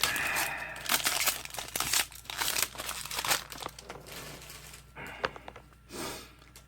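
Foil wrapper of a Magic: The Gathering Double Masters booster pack crinkling and tearing up close, with a steady stretch of crackling and a few sharper rips, plus faint breathing near the end.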